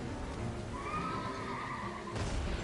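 A giant horse in Elden Ring neighs in a long wavering whinny over constant game ambience, followed by a low thud near the end.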